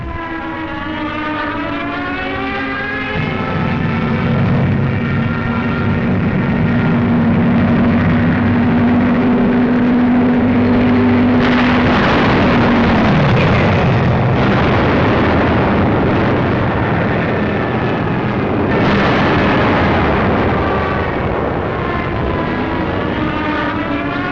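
Wartime aerial bombardment from World War II fighting in North Africa: a dense, continuous roar of aircraft and rumbling blasts, with a falling siren-like whine and several sharp explosive bursts, loud throughout.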